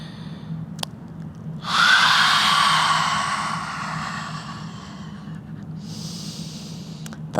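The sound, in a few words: forceful yoga exhales with tongue out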